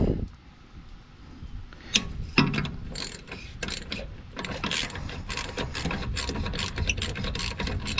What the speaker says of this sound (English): You have to have a ratchet wrench or a really long socket.